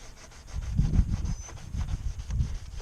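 Repeated rhythmic scrubbing strokes, a rough rubbing back and forth, close and moderately loud, with no talking.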